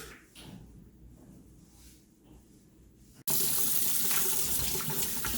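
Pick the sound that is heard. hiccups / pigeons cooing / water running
water running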